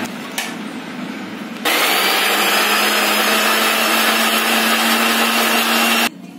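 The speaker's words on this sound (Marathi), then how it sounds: "आता मिक्सरमध्ये हे मिरची, हिरवी मिरची तुकडे करून टाकले" A mixer grinder whirs loudly and steadily as it grinds green chillies, tomato, coriander and bay leaf into masala, a sustained motor roar of about four seconds between quieter handling sounds.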